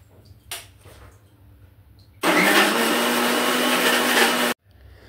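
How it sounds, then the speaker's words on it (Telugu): Blender grinding an apple oat smoothie with nuts: after a few quiet knocks, a loud, close motor roar starts abruptly, runs steadily for about two seconds, and cuts off sharply. "మనం గ్రైండ్ చేసుకునేటప్పుడు నట్స్ కొంచెం కచ్చపచ్చగా గ్రైండ్ అయితేనే జ్యూస్ చాలా టేస్టీగా ఉంటుంది"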